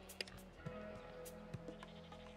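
Sheep bleating in the video game Broken Roads, a few short, wavering bleats over a quiet ambient game backdrop, no talking.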